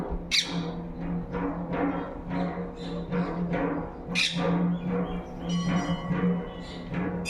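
Many parrots chirping and squawking in the trees at the Bhairav temple at Farnaji, a busy overlapping chorus of sharp calls and chatter, some close and loud, others farther off.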